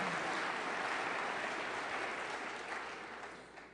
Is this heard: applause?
yes